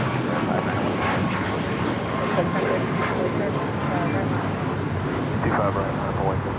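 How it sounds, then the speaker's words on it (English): Alaska Airlines Boeing 737 MAX 9 taking off at LAX, a sustained rushing jet roar at steady strength, overlaid by intermittent talking voices. "This is Alaska Airlines 286 taking off to Newark on a MAX 9"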